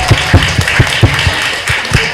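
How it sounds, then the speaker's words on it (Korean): A small audience at a Korean consumer meeting claps in a loose, uneven rhythm of distinct individual hand claps, close and fairly loud over a low room hum. "큰 박수 부탁드립니다"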